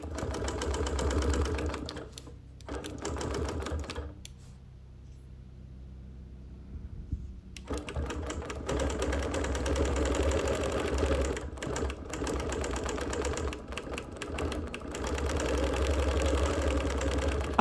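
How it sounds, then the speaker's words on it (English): A sewing machine stitches straight quilting lines across a sampler quilt in bursts of rapid, even mechanical whirring, close and loud. Brief pauses break the bursts, including one long quiet gap. "I'm quilting the straight line without a ruler"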